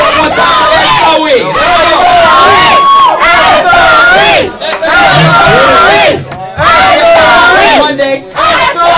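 Crowd at an Oakland County hip-hop showcase in Pontiac cheering and yelling loudly and continuously, with whoops and shouts swelling over several seconds and short dips between bursts.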